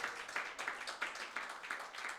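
A church congregation claps in a steady rhythmic beat, faint and a little distant, with no talking over it.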